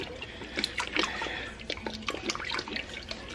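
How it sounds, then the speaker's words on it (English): Worcestershire sauce, three to six tablespoons, poured into a pot of ham and bean soup, a soft liquid trickle and splash with scattered drips and faint kitchen clatter nearby. "we're going to put in about, I don't know, 3 to 6 tablespoons of Worcestershire sauce"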